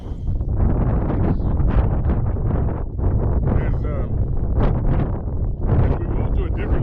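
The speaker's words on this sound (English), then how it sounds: "hopefully you all might be able to hear me with a high wind" High wind buffets the microphone in an open seedless watermelon field, a loud, constant roar with gusty swells throughout.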